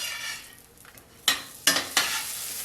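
Chickpea burgers frying in oil and being nudged around with a spatula: a soft steady sizzle, then three sharp scraping clacks of the spatula against the pan near the end, close up with no talking.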